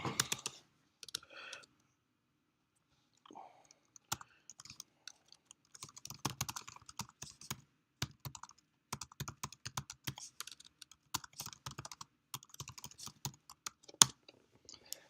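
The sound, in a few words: typing on a computer keyboard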